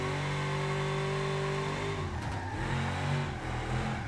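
A Wendover drift car engine in a racing video game revs with a steady harmonic drone, then its pitch drops and wavers as the throttle changes, loud and close with no voices.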